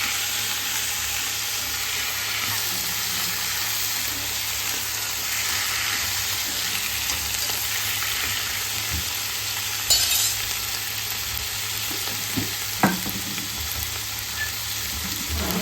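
A bottle gourd and milk curry sizzling steadily in a frying pan while it is stirred, giving a constant close frying hiss with a few soft scrapes and knocks toward the end, and no talking.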